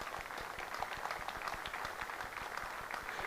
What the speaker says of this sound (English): You should be clapping yourselves.